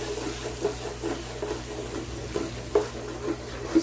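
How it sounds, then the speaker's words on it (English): Vegetables with zucchini being stirred in a pan, giving a steady soft sizzle with brief scraping bursts from the spoon, close and moderately quiet with no talk. "Stir all the veggies."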